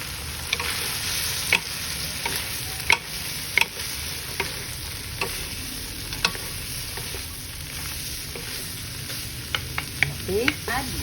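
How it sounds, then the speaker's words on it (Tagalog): Bitter melon stir-frying with cooked ground beef in a pan, under a continuous close sizzle with repeated sharp clicks and scrapes from the spatula, steady and even throughout with no talk. "The meat is cooked. So we're gonna add the bitter melon,"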